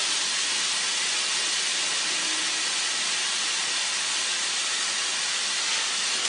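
Meat browning in a hot pan for enchiladas, giving a loud, dense, continuous sizzle and hiss that holds steady throughout, close up and with no voices over it.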